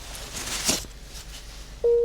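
Telephone line tone after the caller abruptly hangs up: faint handset noise, then a steady electronic beep starts loud and holds to the end.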